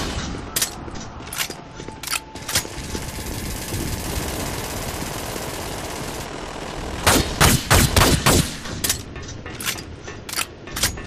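Heavy machine gun fire in the video game Dust 514 rattles out in loud, sharp bursts of rapid shots, with a sustained mechanical drone between volleys and a dense stretch of fire near the end.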